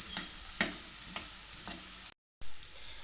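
Potatoes frying in a pan for an omelette, giving a steady close sizzle with a few soft stir clicks, briefly cutting to silence before the frying resumes.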